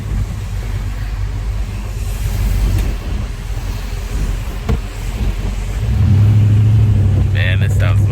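A 1948 Chevrolet convertible with a 5.7L engine drives along a rough road, its steady low engine rumble and road noise swelling louder near the end as it accelerates, with someone talking over it.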